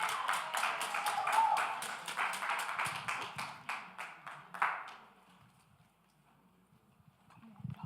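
A small group claps for someone speaker at a church gathering, a modest patter of hand claps that thins out and fades after about five seconds, leaving near silence.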